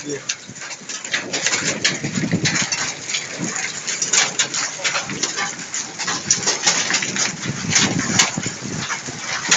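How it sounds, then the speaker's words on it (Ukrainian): Hail pelts down outdoors in a dense, crackling patter of countless small impacts that rises and falls, with faint voices in the background. "І не перестає, град вже йде"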